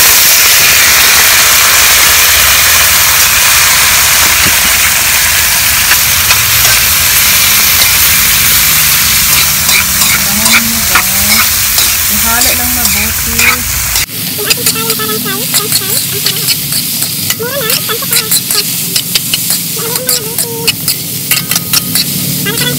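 Papaya tossed into a hot pan of sizzling garlic for adobong papaya, a loud steady hiss that turns choppier partway through, with stirring scrapes and someone talking over it.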